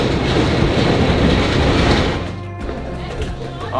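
A train in Istanbul rumbles along with loud, steady clickety-clack from the wheels on the rails, easing into a quieter, lower rumble toward the end.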